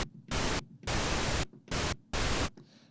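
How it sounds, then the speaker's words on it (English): A Midas M32 digital mixer's built-in generator plays pink noise as four loud, even bursts of broadband hiss, switched on and off abruptly with short silent gaps between them. "If I do like this, you guys will get pink noise."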